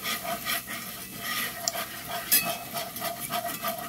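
A spoon steadily scraping and stirring a roux in a pan for gravy, with a soft sizzle beneath, close and continuous in a repeated swishing rhythm with a couple of light metallic clinks.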